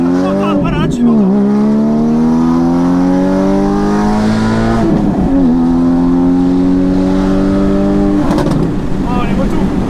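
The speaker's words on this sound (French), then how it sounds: "avant que tu me fasses hurler ce flat 6" A Porsche 981 Cayman GT4's flat-six engine revs hard and loud from inside the cabin, with repeated rising sweeps and brief drops between pulls, continuous throughout without any talking.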